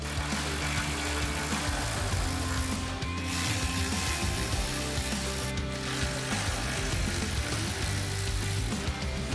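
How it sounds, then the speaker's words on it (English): A hand ratchet with a 10 mm socket steadily clicks, removing headlight bolts on a 2014-2024 Toyota 4Runner, a continuous close ratcheting with a few brief pauses. "grab our 10mm socket to remove 4 bolts holding on our headlight"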